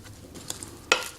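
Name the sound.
stirring cauliflower with oil, garlic and parsley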